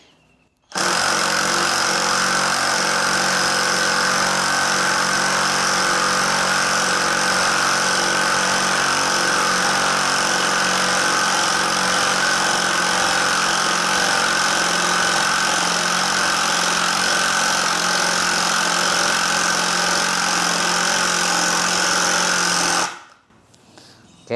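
An INGCO CIRLI12015 cordless driver runs without a break for over twenty seconds, sinking a long screw with a loud, steady motor whine that cuts off abruptly at the end.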